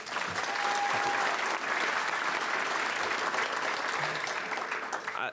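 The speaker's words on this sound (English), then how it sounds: "Can we give him one more round of applause, please?" Sustained applause from an audience at a teacher of the year awards event, a steady dense wash of clapping filling the whole stretch at even loudness with a faint whistle early on.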